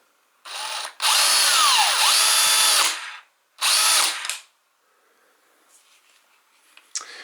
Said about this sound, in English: it sounds very different from the other Black+Decker drills.